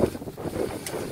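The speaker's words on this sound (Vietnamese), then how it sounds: "Nắng mới có gió." Wind gusting outdoors against a microphone, a rough low buffeting rush that rises and falls over about a second, with no speech.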